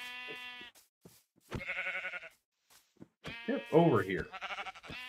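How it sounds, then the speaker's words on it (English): Minecraft sheep bleat several times in short, nasal, wavering cries, while someone speaks briefly between them. "Let's smack a sheep"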